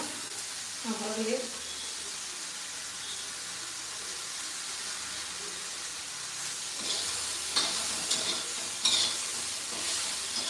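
Tomatoes frying and being stirred in a pan give a continuous sizzle with scraping stir strokes, growing busier and louder in the second half, with faint background voices.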